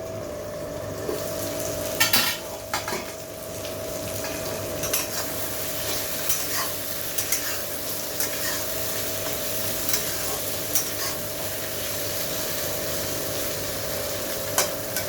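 Potatoes and spices sizzle steadily in a covered pan for a Bengali fish curry, with a continuous fry hiss broken by occasional scraping stirs and light clinks of utensil against metal, close and without talk.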